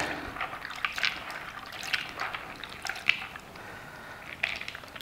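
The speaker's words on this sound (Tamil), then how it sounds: "இதை வாஷ் பண்ணி இதில் இருக்கிற தண்ணியை எடுத்து கொட்டி பாருங்கள் எப்படி இருக்கும்னு" Rinse water from washed cashew nuts is poured off while making crispy cashew pakoda, a soft close trickle with light splashy drips and squishy bursts, no speech.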